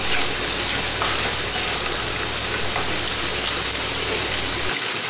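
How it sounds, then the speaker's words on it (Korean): Clams, onion and green onion stir-frying for cream pasta, a loud, continuous hiss and sizzle with a rushing, watery texture that holds steady throughout. "여기 파스타 걸려서 바지락도 볶습니다."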